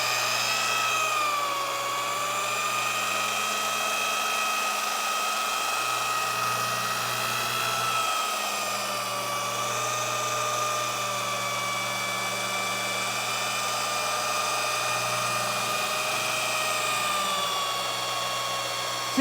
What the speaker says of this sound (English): Crank up the polisher.